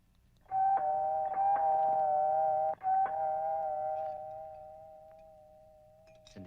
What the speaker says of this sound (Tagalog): Doorbell mo.